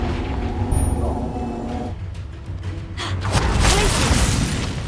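Confringo fire-blast spell exploding in the game Hogwarts Legacy, a loud booming burst with crackling debris that swells over the last half, heard close and over steady game noise.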